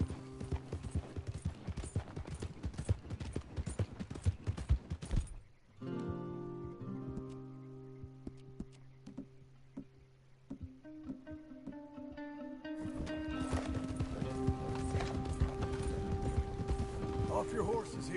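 Horses ride in the Red Dead Redemption 2 video game, with rhythmic hoof clip-clops and tack noise at the start and end, while a quieter stretch of tonal game sound fills the middle.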